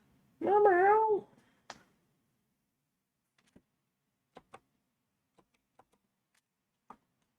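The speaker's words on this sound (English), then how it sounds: "Hi, kitty cat." A domestic cat gives one clear, close meow near the start, followed by a few faint scattered clicks and ticks in otherwise quiet surroundings.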